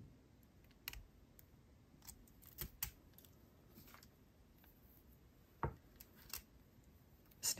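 Small, sharp snips of wire cutters trimming excess wire while making a jewelry charm bracelet, a few quiet isolated clicks scattered over several seconds against near silence.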